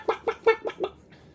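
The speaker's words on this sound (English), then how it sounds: "Now look, all the chickens follow me around." Chickens cluck in the role-playing video game Hardland, five quick, evenly spaced clucks followed by a faint trailing note, close and clear with no talking.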